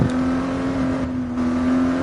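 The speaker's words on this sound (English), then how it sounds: "Short shift into second." Race car in a racing video game holding a steady engine drone that climbs slightly after a short shift into second gear under acceleration, loud and continuous with no talking.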